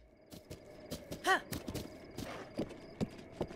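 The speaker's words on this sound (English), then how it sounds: "this is a giant horse" Hooves clip-clop under a giant horse in the Zelda Breath of the Wild game, a few soft irregular steps mixed with a brief whinny-like call, low and fairly quiet amid game ambience.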